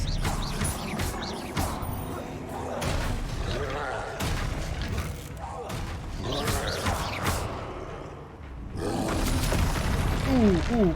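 Confringo spell explosions in Hogwarts Legacy burst in several loud crashing booms with shattering debris, mixed with game combat noise and someone talking over the action.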